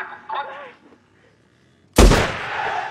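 A sudden loud gunshot bursts out in a film scene of a violent riot where a foreigner is dragged and shot dead. The blast decays into a rumbling tail after a stretch of near silence that follows brief speech.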